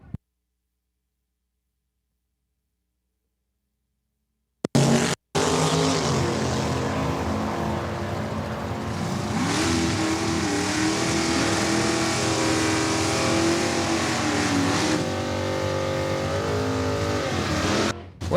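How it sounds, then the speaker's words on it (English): A 1967 Chevy II race car making a drag run at a fall finale event, its engine roaring loud and continuous for about thirteen seconds after a brief silence, with the pitch shifting through gear changes. "running the 67 Chevy 2"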